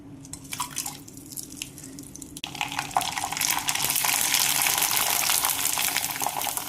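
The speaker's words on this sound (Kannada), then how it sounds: "ಎಣ್ಣೆ ಕಾಯಕ್ಕೆ ಇಟ್ಟಿದ್ದೇನೆ ನಾನು. ಎಣ್ಣೆ ಭೀ ಕಾದೈತಿ. ಈಗ ಪಾಪ್ಕಾರ್ನ್ ಹುರ್ಕೊಳ್ಳು." Flattened rice (poha) popcorn frying in hot oil, a dense crackling sizzle that starts softer and swells loud and steady after a couple of seconds, with no talking.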